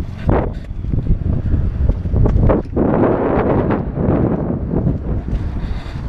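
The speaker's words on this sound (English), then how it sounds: "this wind may be a little bit too much today" Strong wind buffets the microphone in loud, continuous gusts and rumbles around a parked truck during a pre-trip engine compartment check, with no clear talk.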